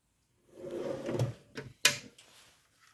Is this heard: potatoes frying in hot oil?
no